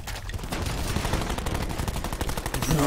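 Rapid automatic gunfire from a Black Ops 4 multiplayer match on PC, a continuous dense burst of shots with game noise underneath, loud and unbroken throughout without talk.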